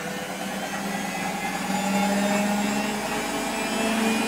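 A Balay washer-dryer motor hums steadily through its spin cycle, a close, continuous drone whose tonal whine climbs slightly in pitch as the drum speeds up, with no voices.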